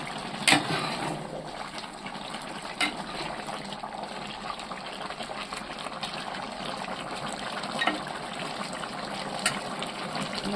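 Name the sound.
chicken curry boiling in pot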